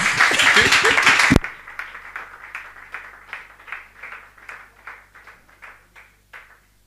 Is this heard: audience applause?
yes